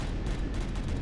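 Vulcan guns firing in the space survival game Empyrion Galactic Survival, Reforged Eden, a dense, continuous barrage of heavy booming shots with rumbling low end, loud and sustained without pause.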